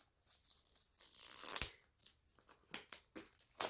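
Scissors snipping and tearing into the packaging of a Game Night board game box, with irregular bursts of sharp cutting and ripping sounds spaced out, interspersed with brief pauses, close and moderately loud.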